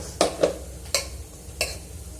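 Leftover cooked rice fried and stirred in a pan, heard as a few sharp scraping clinks of a utensil against the pan over a faint, steady background hiss.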